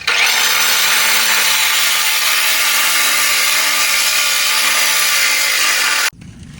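Kannur red stone being cut by a machine saw, a loud, continuous grinding whine that holds steady for about six seconds before stopping abruptly.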